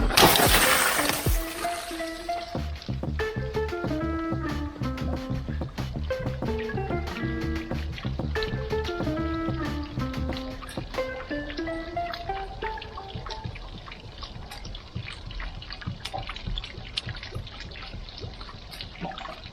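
Pressurized water bursting out of a trailer's hot water tank during draining, a sudden loud rush at the start that settles into a steady gushing, spraying flow, with a tonal musical melody running over it.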